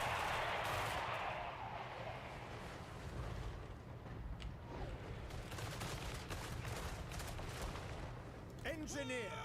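Massed handgun volleys crackle and rumble from a battlefield in the strategy game Total War: Warhammer 3, a dense continuous roar of gunfire with scattered sharper reports.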